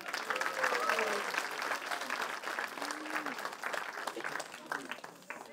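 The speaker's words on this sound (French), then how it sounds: "On peut les applaudir." Audience applause at a church gathering, a steady wash of clapping that holds for several seconds and slowly tapers, with scattered voices mixed in.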